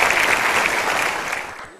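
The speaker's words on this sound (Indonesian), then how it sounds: "Kita berikan tepuk sekali lagi untuk Ibu Diana." A studio audience on the Indonesian talk show Kick Andy breaks into dense, loud applause that holds briefly, then tapers off and fades out at the end.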